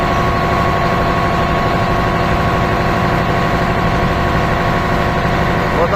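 A fishing boat's engine idles at sea off Jask, Iran, giving a loud, constant low rumble and throb that continues evenly with no pauses.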